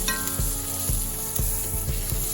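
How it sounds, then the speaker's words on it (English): Steak sears in a hot pan in an air-fryer steak recipe, with a loud, dense, steady sizzle and faint rhythmic thuds underneath, close and uninterrupted. "So that's what I'm doing, searing both sides"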